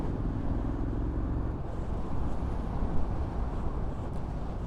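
A 2021 Triumph Street Scrambler motorcycle at full throttle in 4th gear near 60 km/h, giving a dense, steady engine roar with wind rush, loud and continuous for a few seconds with no talk.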